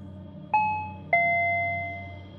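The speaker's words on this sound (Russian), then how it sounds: "раздался резкий звонок в дверь" A doorbell rings twice in a clear two-tone ding-dong indoors, each chime loud and close and left to ring out into a quiet room.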